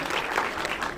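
A brief, steady burst of audience applause at a social foundation event in a mall in Rewari, dense and even throughout.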